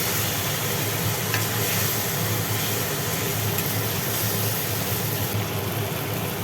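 Spices with turmeric fry in a pan and a splash of water goes in, producing a loud, constant hiss and sizzle with light stirring and no talk.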